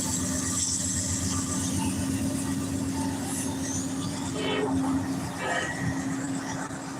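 A train rolls along the tracks close by, a steady heavy rumble of wheels and cars with faint squeals and clatter throughout, no voices heard.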